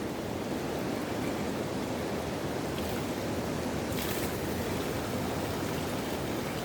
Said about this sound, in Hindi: बस सरकार ने पाइप लगा दी है तो पानी इसके थ्रू अंदर आ रहा है